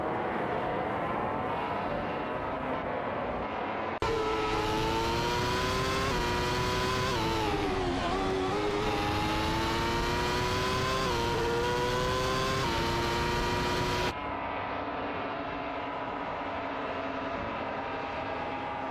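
Race cars in a video game, a McLaren MP421 and a Toyota TF 100XP, scream past with steady high engine whine and rising and falling pitch sweeps, loud and continuous, with no talking.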